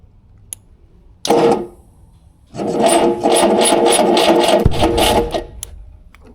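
An old engine, the second of its kind, cranks over in a brief burst and then in a longer rapid churning run lasting a few seconds, with a sharp pop through the exhaust near the end, close and loud.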